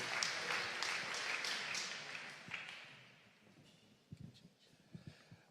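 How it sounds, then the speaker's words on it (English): Audience applause in a conference hall at the Ars Electronica Festival for a presenter, a dense burst of clapping at the start that fades away over a few seconds, followed by sparse scattered claps and thuds. "Give him a big applause for the 3 minutes."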